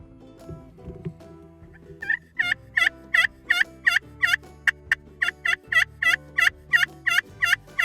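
A wild turkey gobbles again and again in a rapid, regular series of loud, clear calls, starting after a quiet rustling opening with no talk.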